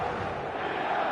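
A stadium crowd in the eFootball 2027 football game keeps up a steady, dense roar of cheering on match day, heard only briefly.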